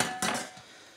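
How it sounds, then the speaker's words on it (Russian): Cooked pork pieces and broth tip into a metal sieve, giving a sharp clatter followed by a brief splashing rush that fades into a soft trickle, with no talk. "Возьму сито, солью."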